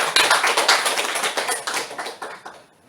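An audience claps together in a steady flurry of overlapping hand claps, moderately loud and close, tapering off toward the end with no voices over it.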